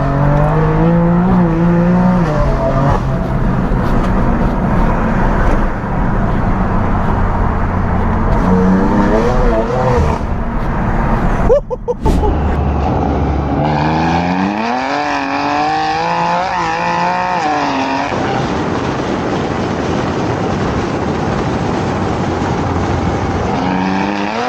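A loud BMW M4 drives through London streets, its engine droning and revving hard through rising and falling gear changes, with a sharp pop partway through, heard up close from inside the car for a long stretch.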